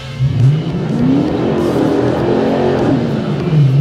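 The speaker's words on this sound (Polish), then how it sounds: "postaram się spalić troszeczkę gumy, żeby pokazać Wam jak ten samochód chodzi" A car doing a burnout, its engine revving hard in rising and falling sweeps while the rear tires spin and screech against the pavement, loud and close throughout.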